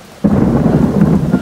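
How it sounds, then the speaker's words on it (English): A sudden loud thunderclap bursts in and keeps rumbling strongly over falling rain during a thunderstorm, close and forceful, with no voices present. "it's thundering like mad out"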